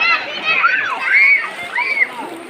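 Children splashing and playing in water while lying down in it, with close, uneven splashes and sloshing, and kids' voices calling and chattering over the water sounds.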